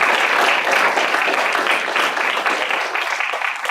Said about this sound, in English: So yeah, we'll give them another round of applause.